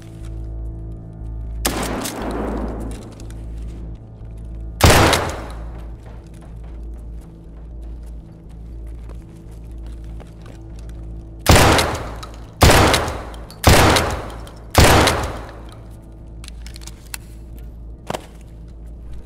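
Gunfire from the video game Escape from Tarkov: a single crack, then a second sharp shot a few seconds later, then four loud, evenly spaced shots in quick succession, each with a short decaying tail over a quiet background.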